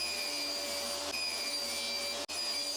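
A table saw or similar power saw runs steadily while a mold board is ripped down to 1 inch, a loud continuous whine with a sharp brief dip near the end.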